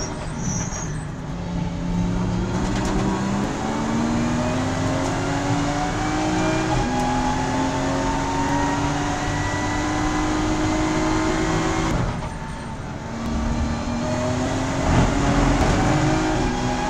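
A Toyota race car engine drones loudly and continuously from inside the car, its pitch climbing through the gears, then briefly dropping and faltering as it cuts out before droning on, short of power.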